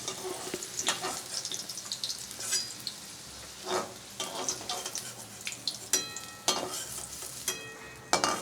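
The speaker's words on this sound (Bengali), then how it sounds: "সেই কুমড়োগুলোকে আগে একটু ভেজে নেব।" Cut pumpkin pieces frying in hot oil, a crackling sizzle with irregular bursts of spattering and clattering stirring strokes, close by with no talking.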